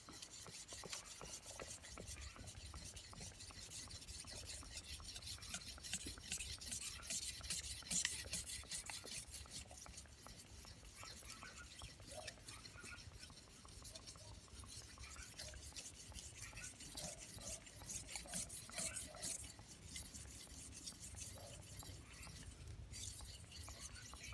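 A knife blade drawn over a natural mud whetstone with a little water, a steady, close scraping rasp repeated in even back-and-forth strokes, quiet and continuous with no talking.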